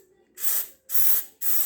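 Three short, loud hissing bursts of aerosol spray are aimed at a volume knob being repaired, evenly spaced and close, with no talking.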